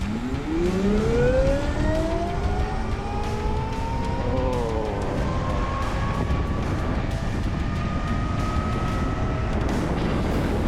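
A Hero Vida V1 electric scooter accelerates in Eco mode, its motor giving a rising whine that climbs steadily in pitch over a few seconds under broad road and wind noise.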